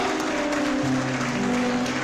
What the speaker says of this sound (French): La joie d'un artiste ou d'un modèle, ce sont les applaudissements des gens qui les accueillent